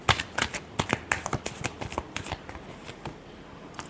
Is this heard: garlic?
no